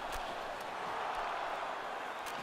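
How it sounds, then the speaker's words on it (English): Hockey crowd at an NHL 18 video game match, a continuous dense roar of cheering fans in an arena, steady and fairly loud throughout with no distinct voices standing out. "You can hear them cheering."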